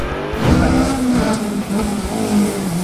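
A rear-wheel-drive Formula 5000 race car roars past on a damp track at a motorsport festival, its engine loud and close, revving with rising and falling pitch through gear changes.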